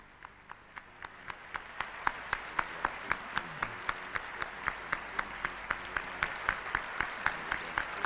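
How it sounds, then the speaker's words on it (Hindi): A large audience at a spiritual gathering claps steadily, the applause building and holding with sharp rhythmic claps standing out in unison, loud and close. "अपनी भावनाओं के पुष्प तालियों के महास्वर में अर्पित कीजिए।"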